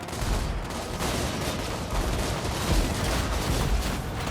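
Massed rifle volleys crackle from lines of riflemen in Total War: Warhammer, a dense continuous rattle of overlapping shots at moderate level with no talk.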